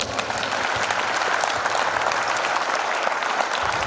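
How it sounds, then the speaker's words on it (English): Audience at a minor football combine keynote applauding steadily, a dense wash of clapping that stays loud throughout. "So I'd like you to put your hands together"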